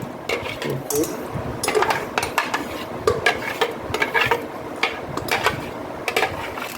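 Bottle gourd paste scraped and tapped out of a container into a bowl, with a steady run of close clinks and scrapes of a spoon against metal and glass.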